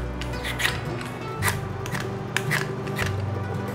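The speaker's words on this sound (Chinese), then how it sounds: "把豆薯削皮" A half jicama (a 500 g root) is peeled by hand: a close series of dry scraping strokes at an uneven, unhurried pace, set against steady low background tones.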